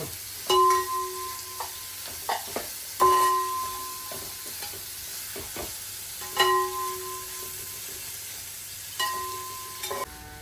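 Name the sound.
onions sautéing in a pan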